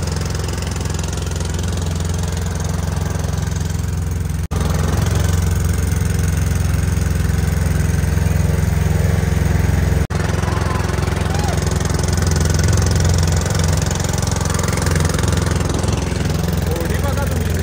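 A motor boat's engine drones steadily and loudly on a river, an unbroken close mechanical hum that fills the whole stretch with little change in pitch.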